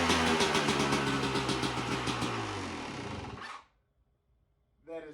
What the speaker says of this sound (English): first start with the electric start YZ250